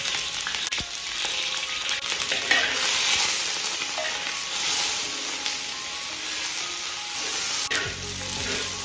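Alligator snapping turtle back pieces being stir-fried in a wok, a steady loud sizzle with scraping stirs and clatter throughout, no talking.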